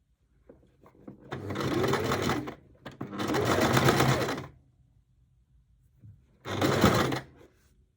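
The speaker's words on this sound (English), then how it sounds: "I'll sew now this seam with the sewing machine" A sewing machine sews a seam on linen shorts in three bursts, a short one, a longer steady run, then another brief run, with quiet pauses between.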